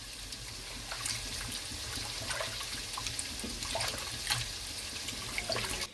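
Tamarind is squeezed and dissolved by hand in a bowl of water in a home kitchen, making continuous close sloshing and squishing splashes with soft trickles. There is no talking.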